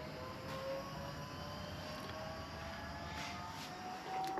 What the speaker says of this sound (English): you'll see that the pump winds up slow